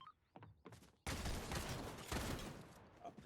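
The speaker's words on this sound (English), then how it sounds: "Oh, she's hitting her shots." Gunfire in an online shooter match, a sudden dense burst of shots that runs on loud and continuous after a brief stretch of quieter talk-like sounds.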